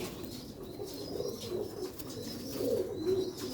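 Sialkoti pigeons give soft, low rolling coos in a few overlapping bursts, close but quiet, with faint background hiss and no talking.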